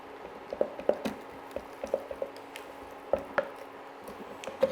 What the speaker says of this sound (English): Make sure you get all that flour mixed in.